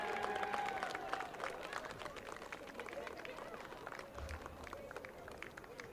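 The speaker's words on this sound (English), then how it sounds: "Let's give a big round of applause for the 2021 Varsity Cheer and Football Squad" A crowd at a varsity football game applauds the 2021 varsity cheer and football squad, with dense, distant clapping rolling on steadily and faint talk mixed in.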